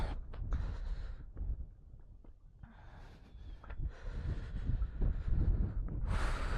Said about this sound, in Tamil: காற்று பொழந்து கட்டுது.